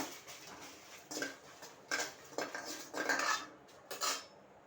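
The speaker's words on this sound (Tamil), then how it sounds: "காஞ்ச மிளகாய் வறுத்துக்கணும்." Dried red chillies roasting in a pan, heard as a series of clinking metal spoon scrapes and taps against the pan, fairly quiet and spaced out, no talking.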